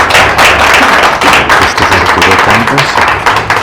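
An audience welcomes a guest speaker at a talk on oral storytelling with loud, dense applause, close and continuous, with murmuring voices and low thumps mixed in.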